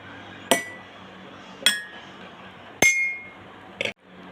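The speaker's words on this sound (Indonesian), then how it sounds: "sumber bunyinya adalah gelas yang dipukul menggunakan sendok" A drinking glass struck with a spoon gives four separate bright clinks, each leaving a short ringing tone that fades, spaced about a second apart in a quiet room.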